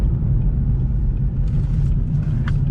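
A muscle sports car engine rumbles steadily up close through a quick U-turn, a deep continuous drone with a brief sharper note near the end and no talk.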